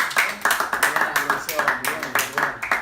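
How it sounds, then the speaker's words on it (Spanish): A few people clap in a brief, uneven burst, roughly a dozen distinct claps in quick succession, close and fairly sparse rather than a full crowd. "Le damos un fuerte aplauso"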